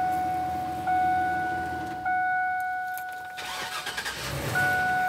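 A parked bus engine is cranked by its starter in a short whirring burst, stops, cranks again and catches, settling into a steady idle with nobody speaking.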